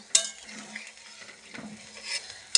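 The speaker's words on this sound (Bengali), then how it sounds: "একটু নাড়া দিয়ে দেবো" Paneer curry being stirred in a pan after water is added, a few close scrapes and clinks of a utensil against metal with faint sizzling between, sharp knocks at the start and end.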